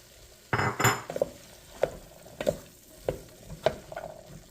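Chopped carrots and potatoes tumble into a turkey soup pot in a series of close, distinct thuds and clatters, some scraping and stirring knocks following at irregular intervals.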